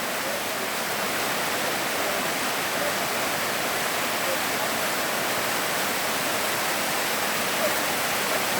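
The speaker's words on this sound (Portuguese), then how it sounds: "venha conhecer Cachoeira Paquetá" Paquetá waterfall on Ilhabela island, São Paulo, heard from above: a steady, dense rushing roar of falling water that continues unchanged throughout, with no voices.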